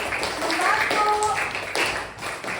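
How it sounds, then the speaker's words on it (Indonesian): A classroom of students applauds together, a dense steady patter of many hands clapping, close and continuous, with children's voices mixed in throughout. "Tepuk tangan untuk semuanya"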